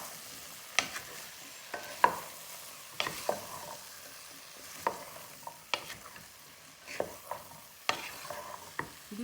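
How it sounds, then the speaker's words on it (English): Potatoes and cauliflower for aloo gobi are stirred in a sizzling frying pan, with a steady run of sharp scraping strokes over a soft, constant frying hiss and no talking. "Just mix it very well."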